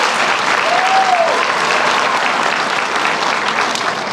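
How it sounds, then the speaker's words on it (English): Dense, sustained audience applause at a graduation ceremony, a loud continuous wash of many hands clapping at once, with a brief whistle or voice rising early on. "Please give him a round of applause"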